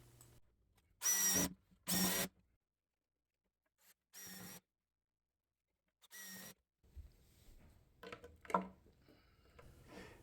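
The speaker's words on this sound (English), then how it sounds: "Next, I drill a couple pilot holes for the mounting screws." A power drill whirs in four short bursts, drilling pilot holes for mounting screws in an end table, separated by quiet pauses, followed by softer clattering and handling noises.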